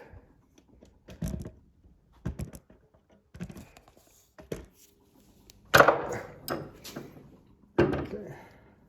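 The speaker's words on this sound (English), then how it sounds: "I'm going to knock that punch out of there real quick here." A punch being knocked out of a pure silver coin with a hammer, a series of sharp separate strikes, about eight of them at irregular intervals, with the last few louder and ringing slightly.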